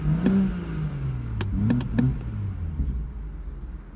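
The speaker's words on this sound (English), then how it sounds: "the fantastic sounds you get from the exhaust on this car" A BMW M240i convertible's exhaust rev, sharp blips rising and falling over a steady engine rumble, close and loud, with several quick throttle stabs in the middle.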